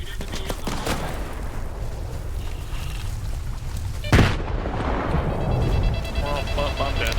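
A grenade explodes in Stalker 2 amid constant gunfire and battle noise, a sharp loud blast midway followed by rumbling debris and continued shooting.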